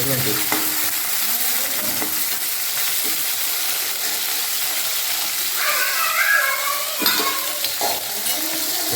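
Tomatoes and garlic fry in a pan with a steady, loud sizzle throughout, broken by a few utensil stirs and clinks and a brief higher-pitched squeak midway.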